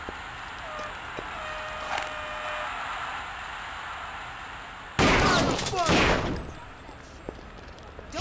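Gunfire in the video game Kingpin: Life of Crime: a sudden loud burst of shots with crackling and ringing debris breaks a low hum of background ambience, then fades back down.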